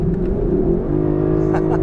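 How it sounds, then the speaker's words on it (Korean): Low, steady V8 drone of a Lexus LC500 heard from inside the cabin on an ordinary road, a continuous hum that fills the space for about two seconds, with a voice talking over it. "이 8기통 엔진이 육중한 소리를 내기 시작하면서 엔진 사운드가 이 캐빈 안을 완전히 좀 감싸게 돼요."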